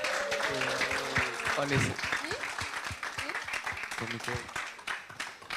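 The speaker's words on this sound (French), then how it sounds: "Vous pouvez vous applaudir." Audience applause closing a live seminar session, a dense sustained clapping that carries on throughout while a voice speaks and cheers over it.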